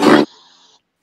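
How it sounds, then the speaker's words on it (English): A pig gives one short, loud, rough grunt that quickly fades into a faint tail and then silence. "Pig."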